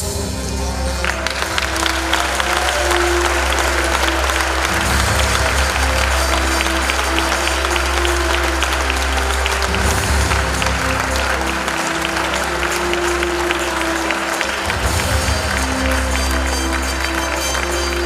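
Sustained audience applause at a university inaugural lecture for Professor Oghara, a steady wash of many hands clapping over a low continuous hum, with a few voices faintly underneath.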